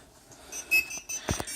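An Arduino laser home security alarm sounds with a sustained electronic tone, broken by a few sharp clicks and thumps, moderately loud and close, with no talking.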